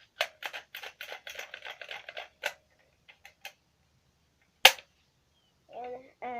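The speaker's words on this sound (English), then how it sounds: "each time you pull back slide" A Zooma toy dart gun having its plastic slide pulled back, giving a rapid run of small ratcheting clicks, then a few isolated sharp clicks and one louder snap, followed by a brief faint voice.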